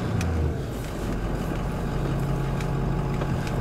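A Chevy more than ten years old runs right after a cold start, its engine giving a loud, steady rumble throughout with no talking over it.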